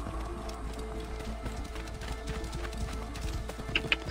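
Steady clip-clop of horse hooves at a trot in the video game Assassin's Creed Origins, continuous and fairly close, with a brief sharper rattle near the end.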